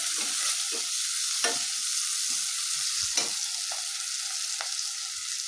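Mint and coriander sizzle steadily in oil in a frying pot for chicken biryani, with a spoon stirring and scraping in soft, irregular strokes over the continuous hiss.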